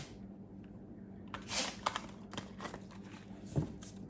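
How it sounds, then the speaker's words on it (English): Tarot cards being shuffled by hand in a quiet room, soft papery riffles and taps coming in a few close, faint bursts. "Shuffle one more time."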